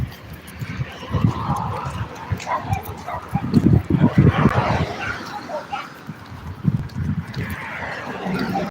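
A dog barks and yips in repeated bursts close by, mixed with whimpering and outdoor bustle, while people talk in the background.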